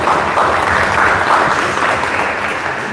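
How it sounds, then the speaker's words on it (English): An audience gives a full round of applause for Guru Das Prabhu at an interview event, the dense clapping loud and sustained throughout before easing slightly at the close. "let's give him a huge round of applause, everyone."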